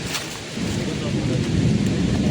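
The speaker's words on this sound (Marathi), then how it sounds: "हे बघा भाई काय खतरनाक पाऊस." Heavy monsoon rain with thunder and strong wind in a Konkan village in May: a dense, steady roar of downpour with deep low rumbling that swells slightly after the first half second.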